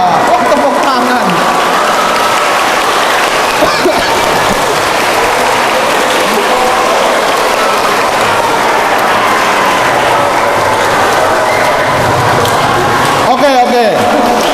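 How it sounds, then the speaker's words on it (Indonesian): Children at a church gathering clap together in a loud, continuous patter of applause that runs for several seconds, with voices mixed in and a few sharper bumps near the end. "Wah, tepuk tangan."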